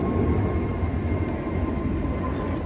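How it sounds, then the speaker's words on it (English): Airplane passing overhead beside the River Thames during a barbel and chub fishing session, a steady broad rumbling roar that holds at the same level throughout. "Bloody planes."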